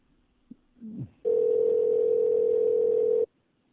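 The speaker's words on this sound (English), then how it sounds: "So I'm going to try to call her back on her regular phone line." Calling a regular phone line: a couple of brief clicks and a short rustle, then a loud, steady single-pitch telephone tone holds for about two seconds and cuts off abruptly.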